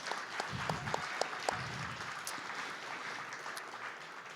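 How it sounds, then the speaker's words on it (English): Audience applause at a community democracy summit, fairly steady clapping with a few sharper individual claps standing out and faint murmuring mixed in. "clap it up for Gem City Market"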